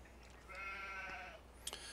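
A sheep in a farming video game gives a single drawn-out bleat at moderate distance, followed by a brief high chirp-like sound, set against a quiet background hum.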